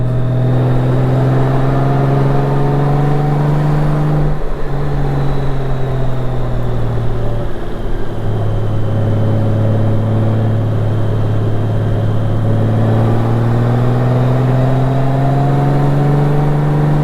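A motorcycle engine pulls a trailer up a hill on the Back of the Dragon road, a steady close drone with a low hum that rises and dips slightly in pitch as it labors, running continuously without talk.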